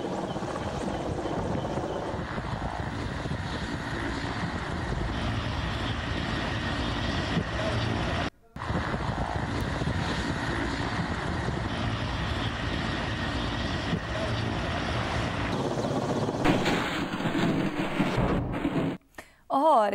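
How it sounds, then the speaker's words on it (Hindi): Army helicopters drop water on a hill fire, their rotors and engines producing a loud, continuous droning roar with steady thumping beneath, broken by a short gap midway and a few abrupt cuts near the end. "आर्मी हेलीकॉप्टर्स के ज़रिए आग बुझाने की कोशिशें की जा रही हैं।"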